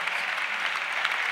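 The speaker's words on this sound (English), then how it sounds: "C'est acclamer, acclamer. It's clap, clap." Applause from a church congregation, a dense, steady patter of many hands clapping at moderate loudness for a brief stretch, with no voices standing out.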